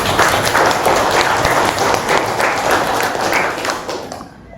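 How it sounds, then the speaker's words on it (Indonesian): An audience claps in a classroom during a recorded teaching performance assessment, a dense, steady burst of applause from many hands that holds loud for about four seconds before tapering off at the end. "Oke, tepuk tangan buat semuanya."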